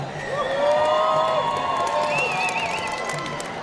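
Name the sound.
crowd applause and cheering for climbers at a competition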